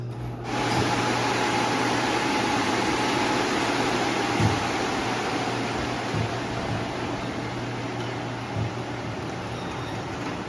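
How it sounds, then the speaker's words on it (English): Garage air curtains blowing, a steady broad rush of air with a low hum that starts just after the beginning and holds evenly, with a few faint knocks underneath and no talk. "So we have air blowing on the left one, and we have air blowing on the right one"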